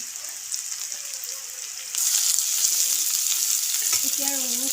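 Garlic, cumin powder and onion frying in oil: a moderate sizzle that jumps suddenly louder and fuller midway, then crackles on steadily, with a brief tonal sound near the end.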